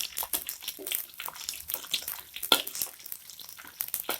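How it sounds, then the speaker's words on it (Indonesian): Anchovies frying in hot oil in a home kitchen, a steady faint crackling sizzle with scattered sharper pops and no voices. "Kita goreng sampai kuning kecoklatan"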